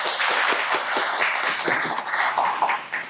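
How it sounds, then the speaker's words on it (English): An audience at a career forum applauds a candidate and panel, a close, uneven burst of clapping with distinct individual hand slaps and a slight rise and fall. "let's give another round of applause to the candidate and the panel"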